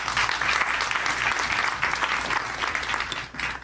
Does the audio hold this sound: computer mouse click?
no